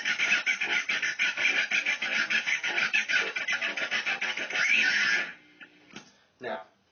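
Electric guitar played through a Crybaby wah-wah pedal, fast rhythmic strummed pulses with a sweeping vocal-like filter, then a few scattered plucked notes after the playing stops.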